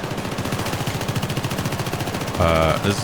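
Sustained automatic gunfire in Syndicate (2012), a rapid steady stream of loud rounds aimed at shutting down a machine, ending in a burst of metallic electronic tones near the end.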